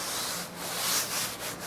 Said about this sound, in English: I still have to do a final sanding on it.